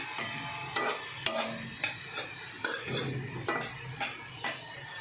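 Poppy seeds being dry-roasted in a pan while a spoon stirs and scrapes them, giving about ten rhythmic scraping and clinking strokes over a soft rustle of seeds, close by with no talking.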